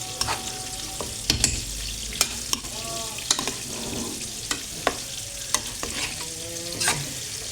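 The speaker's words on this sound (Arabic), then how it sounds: "ونرمي معاه الطماطيش، ونقلي مليح مع الرجل تاع الفخر تاع الدجاج" Tomatoes and chicken legs fry in a pan, a steady close sizzle punctuated by regular sharp scrapes and knocks of a utensil stirring against the pan.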